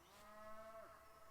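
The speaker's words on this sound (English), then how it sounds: "Excuse the very vocal cows this morning," Cattle mooing on a farm on a quiet morning, a single long, fairly distant low call that rises and swells before breaking off, with faint outdoor background and no talking.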